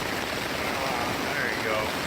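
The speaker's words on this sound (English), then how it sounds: "But it's been raining" Rain falling on a tent during an overnight camp, a steady dense hiss of drops filling the space without pause.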